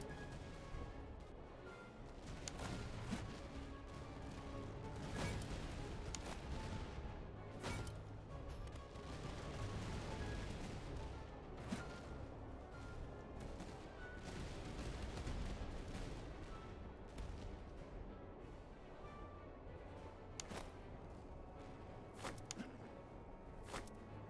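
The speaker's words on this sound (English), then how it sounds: "After this volley, I might switch them over to Buck and Ball." Repeated musket volleys crack out in Master of Command, a line-infantry battle game, with dense overlapping gunfire bursts over a steady din of battle, loud and continuous with no talking.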